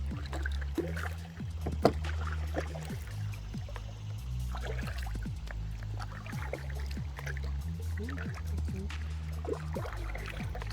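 Kayak paddling on Lake Wheeler, with repeated soft paddle strokes and water swishes over a low steady rumble, fairly close and quiet.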